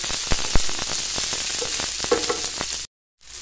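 Onion, garlic and ginger fry in a pan for matar paneer, giving a loud, close, steady sizzle punctuated by sharp stirring knocks, then an abrupt cut to silence before the sizzle returns.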